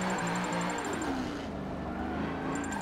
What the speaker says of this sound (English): Feathering the throttle.